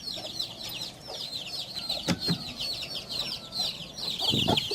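A broody hen clucks softly and repeatedly among her chicks, whose high peeping chirps run continuously close by, with a few louder bursts of clucking.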